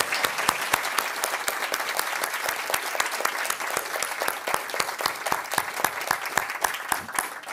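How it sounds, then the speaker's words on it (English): An audience applauds at the close of a global citizenship education ideas exchange event, steady dense clapping filling the room throughout, loud and sustained with no speech over it. "So a round of applause for everybody."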